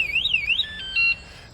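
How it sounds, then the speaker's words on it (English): A golf cart anti-theft alarm on a lifted 36-volt EZGO sounds loud and near: rising and falling electronic whoops, then a steady beeping tone that cuts off, with no voices. "if they try to take it again, you got the alarm going off"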